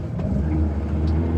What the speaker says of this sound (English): Oh, we're just spinning tire because of that.